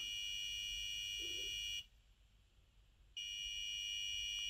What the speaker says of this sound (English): So this controls the first beeping sound